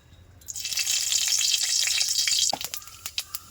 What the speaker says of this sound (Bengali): প্রথমে দিলাম কড়াইতে তেল, লঙ্কা কেটে দিলাম তেলের মধ্যে